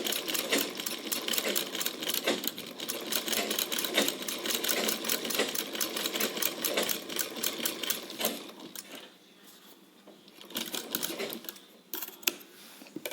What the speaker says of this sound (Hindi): अब हम 1/2 इंच की दूरी पर एक स्ट्रेट स्टिच डालेंगे।